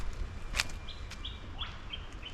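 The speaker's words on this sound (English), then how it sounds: "The eastern whiplash bird." Eastern whipbird calling near a small waterfall off a bush track in Australia, heard as a few faint, thin rising whistles over a steady wash of running water, one brief sharper note standing out early.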